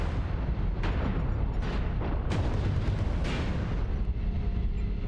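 Missiles explode in rapid succession in the mech combat game MechWarrior Online, a loud, dense barrage of overlapping booms and bursts lasting several seconds.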